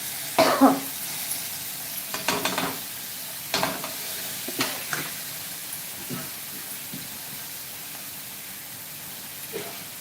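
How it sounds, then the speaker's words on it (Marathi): Masala roasting in a pan on a low flame while making bhendi masala: a soft, steady sizzle with intermittent scraping stirs, and a cough near the start. "मसाला भाजत असताना गॅसची फ्लेम लो ठेवा"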